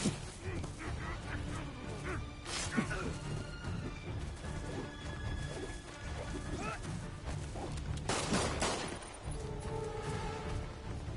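Enemy gunfire in the Spider-Man PS4 video game, a dense continuous barrage of shots and crashes under a music-like background, with heavy bursts near the end.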